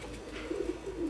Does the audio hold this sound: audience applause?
no